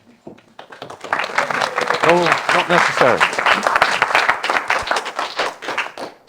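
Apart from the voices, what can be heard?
audience applause and clapping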